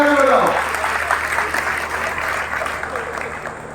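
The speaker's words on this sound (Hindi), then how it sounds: "एक बार फिर से ताली लगा के बताओ" A rally crowd bursts into loud, dense clapping that swells at first and then holds steady, with a voice calling out over the applause.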